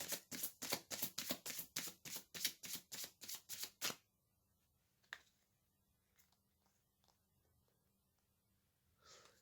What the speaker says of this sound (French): Je vais tirer une seconde carte.